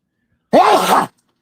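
One loud, close sneeze, a sharp burst that trails off quickly in otherwise silent surroundings.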